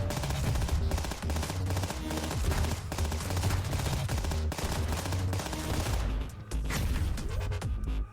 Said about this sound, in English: Whoops, I meant to actually use my secondary, not my missiles.